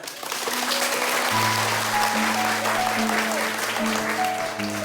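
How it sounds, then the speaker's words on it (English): Audience applause at a talk during a humanitarian trip to Myanmar, a steady wash of clapping with a low sustained musical tone running beneath it throughout. "give yourself an applause"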